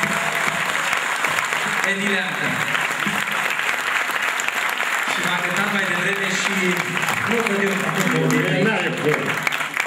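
An audience applauds after a song at a Dobrogea Day celebration, with sustained dense clapping throughout while a voice speaks and sings over it.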